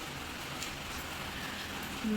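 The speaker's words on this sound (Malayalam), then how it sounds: "ഇപ്പോൾ നല്ല മഴ" Steady rain hisses continuously, an even wash of dense patter with no pauses, moderately loud throughout.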